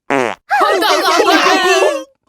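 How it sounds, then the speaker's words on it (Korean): Cartoonish fart sound effect in a children's musical for toddlers, a short buzzy blast followed by a longer warbling, wet trumpeting fart, loud and close, alone. "바, 방귀잖아."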